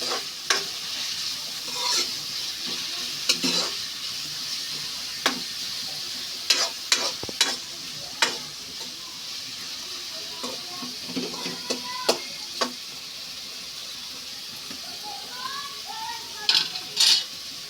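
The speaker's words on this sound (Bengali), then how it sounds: "এখন এটাকে ভালোভাবে নেড়ে মিক্স করে নেব তেলের সাথে" Chicken lollipops frying in oil are stirred in a pan: a continuous sizzle runs under repeated sharp scrapes and clinks of a utensil against the metal, with no voices.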